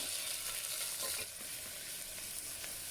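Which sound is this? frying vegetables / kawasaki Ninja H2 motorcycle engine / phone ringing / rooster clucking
frying vegetables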